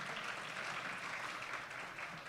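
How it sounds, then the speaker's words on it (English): Audience applause fills a room at a West Virginia entrepreneurship event, a steady dense wash of clapping held at even loudness throughout, with no voices over it. "Sorry, lots of clapping today."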